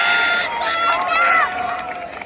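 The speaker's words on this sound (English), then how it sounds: "Spectators are cheering up for their respective players." Crowd of spectators cheering and calling out during a schoolgirls' 200-meter race on a school sports ground, a steady, loud wash of voices with shrill whistle-like shouts rising over it throughout.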